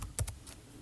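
A few quick, close keystrokes tapped on a computer keyboard, soft clicks spaced unevenly over a quiet background.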